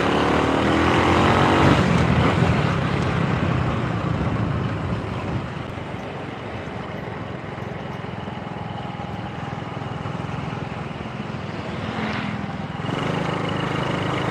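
Honda Supra motorcycle engine with a formerly slipping clutch running during a test ride, a steady buzzing drone that rises and falls with throttle, fairly close and continuous.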